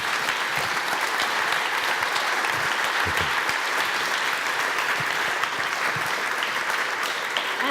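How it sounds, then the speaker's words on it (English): An audience at an evening salon performance event gives sustained applause, dense steady clapping from many hands lasting several seconds, with faint voices underneath. "a big applause for you"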